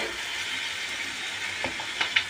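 Green paste of coriander, green chili, curry leaves, ginger, garlic and cumin hits a hot pan with a steady hissing sizzle, followed near the end by a few sharp clinks and scrapes.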